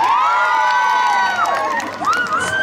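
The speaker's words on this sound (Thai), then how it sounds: "ใครเชียร์เบอร์10ตบมือหน่อยครับ" A large audience at a Thai temple Loi Krathong pageant in Los Angeles erupts in loud cheering and shrill shouts for contestant number 10, sustained and dense, with voices swooping above the din.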